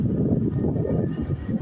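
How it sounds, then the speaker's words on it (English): Class 390 train pulling out of a station at Rugby, a continuous low rumbling roar of motors and wheels, steady and fairly loud with no talk. "And here departs that 390."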